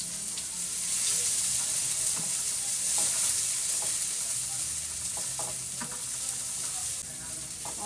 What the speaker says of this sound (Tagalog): kamatis, bawang at red onion, sabay-sabayin ko na kasi ang init na ng pan ko